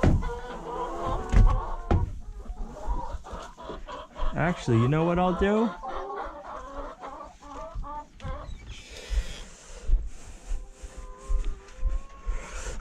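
Noisy chickens cluck and squawk in a new coop with nesting boxes, close and busy throughout, while someone talks briefly over them.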